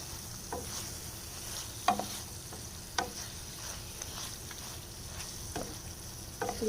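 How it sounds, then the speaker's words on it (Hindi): Green chilies are stirred into a simmering mirchi ka salan chili curry, with steady low sizzling and several sharp spoon scrapes against the pan, close and fairly soft, no talking. "और साथ ही हम मिर्ची डाल देंगे। मिर्ची डालने के बाद अच्छे से करेंगे मिक्स।"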